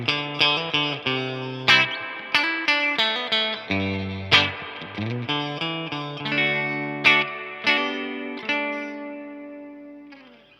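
A Fender American Pro Classic Jaguar electric guitar through a Fender Deluxe Reverb tube amp, chords and single notes picked one after another, bright and ringing with a warm amplified tone and a reverb tail.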